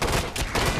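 Dense, continuous gunfire in the video game Killing Floor 2, loud and close, with rapid overlapping shots forming a steady fusillade through the whole short burst.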